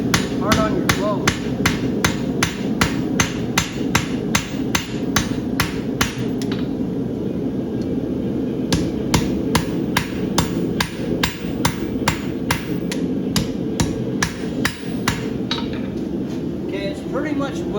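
A hammer strikes a horseshoe being forge welded, a steady, rapid run of sharp metallic blows ringing out over a constant roaring background, close and loud throughout.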